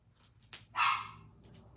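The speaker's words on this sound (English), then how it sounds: "we have a little dog in the back" A small dog yaps once from somewhere behind, a brief, fairly faint bark with a little soft movement around it in an indoor card-making and stamping session.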